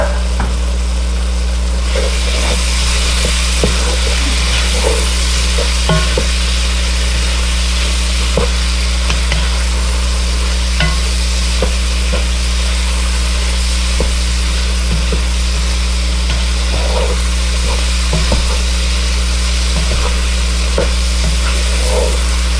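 Garlic, three cloves, cooks in a pot with bay leaves as the base for red beans and rice, giving a steady close sizzle with faint stirring and clinks over a low hum, with no talking.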